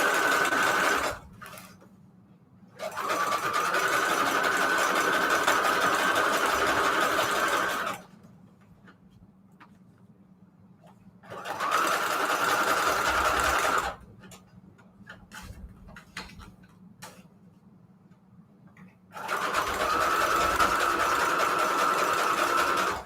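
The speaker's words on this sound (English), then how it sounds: "But I like to sew on everything." A sewing machine stitching junk journal pages in three long steady bursts of fast, even whirring and ticking, with quiet pauses and faint handling sounds in between, close by.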